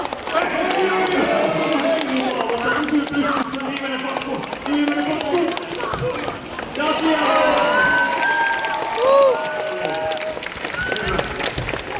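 Audience applause and cheering at a football bowling contest, a steady loud wash of clapping and crowd voices running the whole time, with people talking over it.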